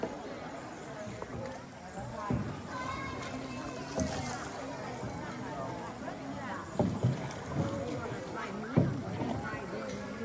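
A small rowing boat on a river trip through Trang An, with steady paddling and water noise under nearby people talking, plus occasional knocks and splashes.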